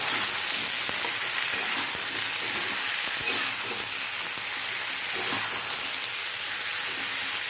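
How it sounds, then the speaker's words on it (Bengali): Chunks of bottle gourd being stirred and fried in a pan, with a steady broadband sizzle throughout and scraping stir strokes repeating every second or so, close and fairly loud, no talking. "আমাকে বেশ কিছুক্ষণ ধরে নাড়াচাড়া করতে হবে, মানে কষতে হবে"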